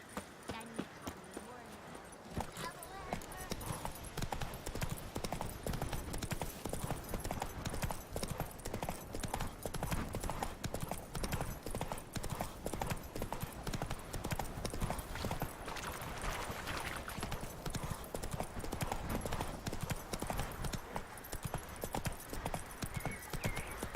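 Continuous rhythmic clopping of horse hooves in The Witcher 3, brisk and steady throughout, with an occasional whinny mixed into the busy background.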